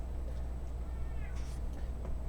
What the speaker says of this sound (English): my cat's yelling at me already